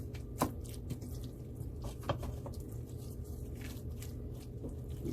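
Water trickles and patters from a tap into a pot of Trinidad-style curry potato and corned beef, a steady low splashing with a few brighter drips.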